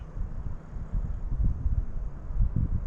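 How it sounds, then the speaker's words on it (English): Low, gusty wind rumbling against the microphone during light rain on a deer hunt, rising and falling in uneven bursts with no voices. "It's really windy."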